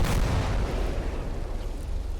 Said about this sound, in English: Let's drop artillery on these guys here